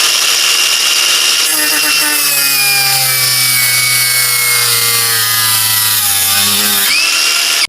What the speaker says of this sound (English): She cut the bolt alright